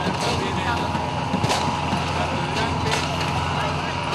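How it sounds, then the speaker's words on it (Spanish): Gunshots crack during a police crackdown on protesters on Avenida 9 de Julio in Buenos Aires, a couple of sharp bangs cutting through loud, continuous street and crowd noise. "Hay disparos"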